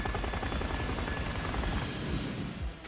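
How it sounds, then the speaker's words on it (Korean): Helicopter landing sound effect from a video game gacha animation: a loud, close rotor chop with a throbbing beat and engine whine that holds steady for the whole stretch, with no voices. "헬기 착륙."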